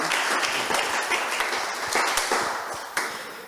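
A church congregation at a Christian conference applauds, a full, steady rush of many hands clapping that fades slightly toward the end, with a few sharper claps standing out.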